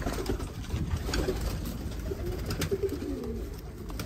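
Dolapçı pigeon squabs coo faintly among steady loud background noise, with soft low calls coming now and then.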